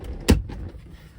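A car part on an SN95 Mustang latches into place with a single short, sharp plastic click, close by and followed by quiet.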